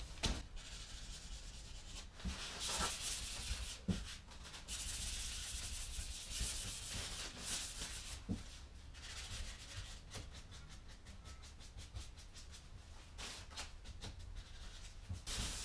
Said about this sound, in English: I'm just going to use the wet sandpaper, but I'm going to use it dry.